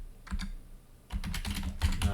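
Keys clack on a computer keyboard up close, a short burst of typing, then a pause, then a quicker flurry of keystrokes ending in two heavier taps.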